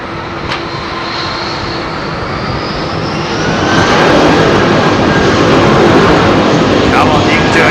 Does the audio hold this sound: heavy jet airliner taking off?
yes